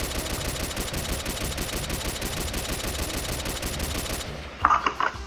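Rapid automatic AK rifle fire from the video game Pixel Strike 3D rattles out in one loud, continuous burst for about four seconds, then cuts off, leaving a few quieter clicks and taps.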